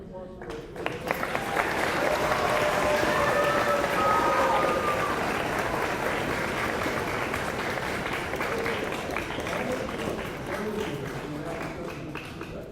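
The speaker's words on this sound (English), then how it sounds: "Round of applause for" A round of applause from an audience at a Kid Governor announcement event, steady sustained clapping that swells and holds, with some voices mixed in beneath it.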